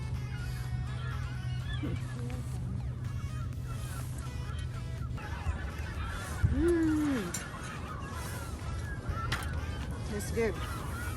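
Geese honk from close by near a lakeside picnic at Granite Bay, a few drawn-out calls rising over steady wind and low background noise, with no talk.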